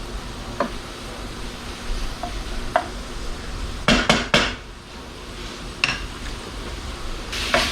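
Pork sausage cooking in a pan for Southern gravy, stirred with a utensil that makes several sharp scrapes and clinks against the pan over a low, steady background, with a dense cluster of knocks near the middle.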